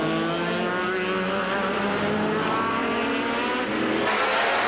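Race cars roar past during a sports car race with Porsches and Jaguars, a loud sustained engine drone that shifts pitch as the cars go by.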